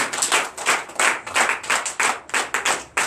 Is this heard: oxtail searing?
no